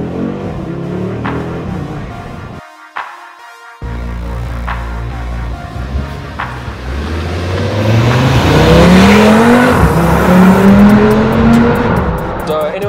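Audi 8Y RS3 with a five-cylinder engine driving, a brief pause and then climbing revs as it accelerates hard, loud and close, with some speech mixed in.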